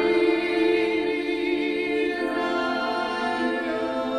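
Voices chant a Christian prayer in a sustained, dense drone of layered tones, holding steady with slight shifts in pitch, fairly quiet and without any spoken words.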